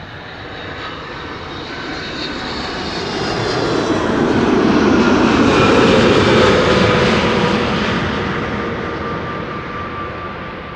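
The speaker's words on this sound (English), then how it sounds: "23-year-old airplane, first flight August 2001." A 23-year-old airplane, first flown in August 2001, arrives at Amsterdam Schiphol Airport with a loud engine roar that swells as it passes close by, peaks, then slowly fades with no voices.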